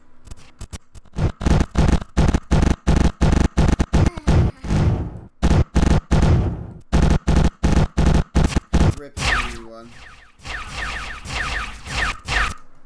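Spaceship weapons fire in the Starmade video game as loud, rapid staccato bursts in quick volleys, pausing briefly before a harsher, noisier barrage follows.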